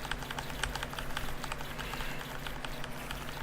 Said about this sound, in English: Sorry for my keyboard noises.